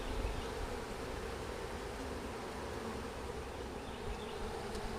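Honey bees buzz densely around a hive, a constant soft droning swarm filling the air with no voices.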